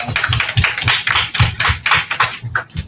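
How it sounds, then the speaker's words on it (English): A small audience claps at the soft launch of a trauma recovery center: close, uneven hand claps in a loose, quick rhythm for about three seconds, with no talking over them. "Round of applause."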